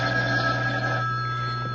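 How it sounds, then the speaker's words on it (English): A telephone rings steadily and loudly through a short stretch in a radio mystery drama scene, the electronic bell tone sustained without any voices over it. "May I answer the phone?"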